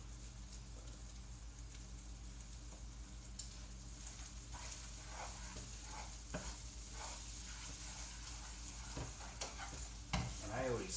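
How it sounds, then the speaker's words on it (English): Eggs cook in a hot pan with a steady close sizzle and intermittent scraping stir sounds, with a brief bit of speech near the start. "cook these eggs 3/4 of the way, and then I turn it off"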